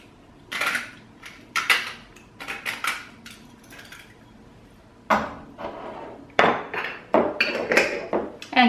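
A pepper mill grinds fresh black pepper over a pot of homemade minestrone soup in bursts of gritty crunching twists, close and fairly loud, separated by short pauses.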